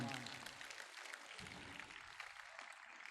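An audience claps in a dense, steady wash of applause at a Brahma Kumaris 70th anniversary function in Ambala Cantt. The clapping sounds fairly distant and soft and carries on for the whole clip.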